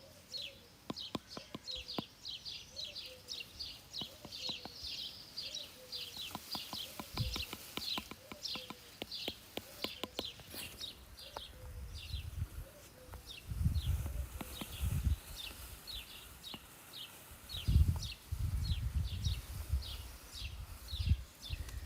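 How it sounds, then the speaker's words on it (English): Several bird species sing and call outdoors, including what may be a redstart, with repeated high chirps and trills layered throughout, a lower warbling voice early on, and occasional bursts of nearby rustling or thumping toward the end. "You have 2 or 3, 4, 5 species of birds talking to you right now."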